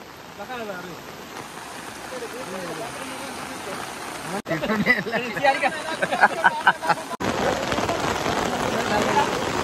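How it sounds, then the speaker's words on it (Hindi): Heavy cloudburst rain pours down in a village during a flash flood, a dense continuous hiss and rush of water with surging torrent noise, while people talk over it. "हेवी बारिश हो रही है यहाँ पे एकदम जोरदार."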